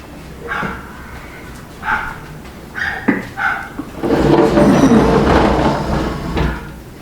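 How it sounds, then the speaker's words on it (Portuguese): A small dog barks in a few short, sharp bursts indoors, fairly close, followed by a stretch of louder, broad rustling noise toward the end. "O cachorrinho está atacado hoje."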